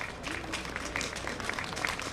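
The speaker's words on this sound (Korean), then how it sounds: "큰 박수 부탁드리겠습니다" An audience at a Korean political party's launch ceremony applauds, giving a dense, steady burst of clapping that fills the room throughout.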